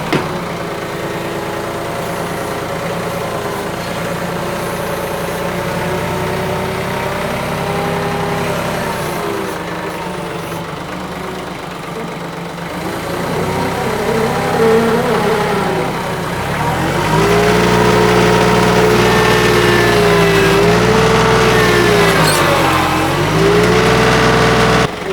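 A 25 horsepower tractor engine in 4-wheel drive idles steadily, then its pitch climbs as the idle is raised, settling into a louder, revving drone with pitch wavers under load near the end.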